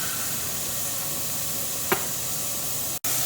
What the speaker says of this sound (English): It's not easy to see the steam coming out of the vent pipe, but it is a steady stream, and you can hear the racket of the canner